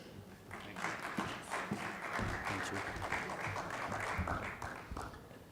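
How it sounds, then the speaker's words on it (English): An audience at a retail sector forum claps for a guest speaker, a moderate round of applause rising quickly and holding steady through the clip, heard from a slight distance with no talk. "Please give him a warm round of applause and interact with him during the Q&A."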